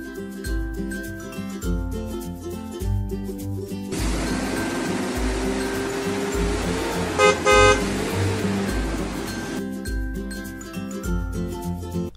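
Minecraft game audio: a car drives with a busy engine-like wash in the middle stretch, broken by a quick burst of horn toots, while looping background music plays before and after.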